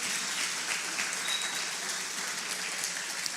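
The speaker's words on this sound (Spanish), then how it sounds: "¿Qué tal si le damos un aplauso al Señor por eso?" Applause from a church congregation during a sermon, a steady dense wash of many hands clapping together that holds evenly throughout, with no speech over it.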